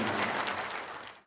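Workshop audience claps together in a short, dense burst of applause that cuts off abruptly after about a second.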